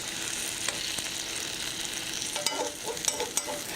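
Meat searing in a pan, browning on one side before going into the oven: a steady broadband sizzle with a few sharp crackles and pops near the end, close and alone without talk.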